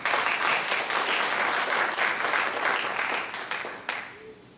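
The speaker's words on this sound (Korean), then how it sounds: "여러분 박수로 환영해 주십시오" Audience applause at a Korean seminar welcomes a deputy center head to the stage: a dense, steady wash of many hands clapping at close range, holding strong for about four seconds before thinning out and fading.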